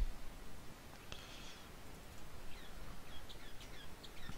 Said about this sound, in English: I'm wondering if my bird wants out again or not.